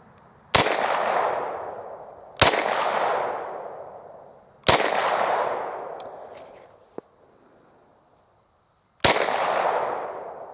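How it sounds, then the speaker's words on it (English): Four loud gunshots from a Stribog SP9A1 hitting a 10-inch steel plate at 50 yards, spaced a couple of seconds apart, each followed by a long ringing decay, with a faint metallic tick between them. "I'm going to shoot that 10-inch plate because it rings a little bit louder"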